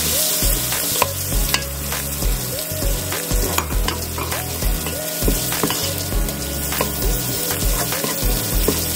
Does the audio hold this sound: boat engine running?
no